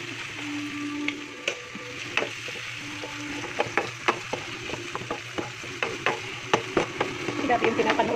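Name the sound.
stirring pasta into sauce in a pan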